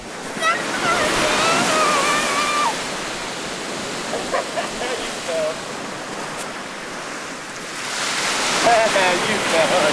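Ocean waves break and wash steadily on a North Carolina beach in a loud, continuous roar, with brief children's shouts carried over the surf.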